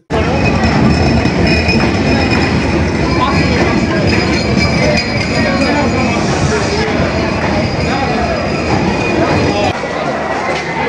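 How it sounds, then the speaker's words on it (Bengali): The intercity Rupsha Express rolls into Parbatipur railway station close by, a loud steady rumble of wheels and carriages with occasional squealing. "আন্তনগর রূপসা এক্সপ্রেস ট্রেনটি 9টা 54 পার্বতীপুর রেলওয়ে স্টেশনে প্রবেশ করলো"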